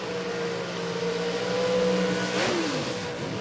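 A carbureted pro stock V8 drag car revs hard while warming its tyres at Sydney Dragway, holding a loud, steady high-pitched drone before the pitch sweeps sharply downward near the end.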